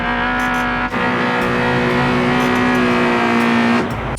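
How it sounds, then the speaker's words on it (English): Electric convertible top of a Porsche Boxster 986 lowering, a steady mechanical motor hum that runs for several seconds and then stops, heard up close with no talking. "Start by putting the top down."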